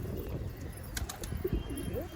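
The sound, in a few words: Madrasi pigeon cooing and flapping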